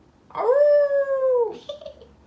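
A person imitates a wolf howl with one sustained, rising-then-level vocal tone lasting about a second, close and loud, that fades into quiet.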